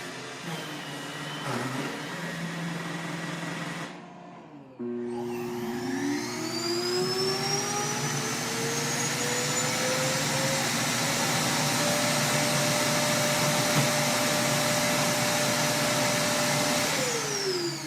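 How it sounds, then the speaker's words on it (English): An iRobot Roomba i7 robot vacuum runs its suction motor up close, a loud steady whir that briefly cuts out, then restarts and climbs in pitch to a sustained whine with rising tonal hum, no voices. "There's a suction motor."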